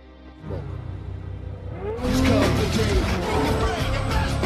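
A modified car roars past during a test drive in an action racing film, engine noise swelling into a loud, sustained rush with whooshing road noise and background voices.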